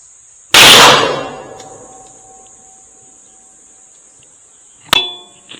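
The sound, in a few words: bullet hitting a steel target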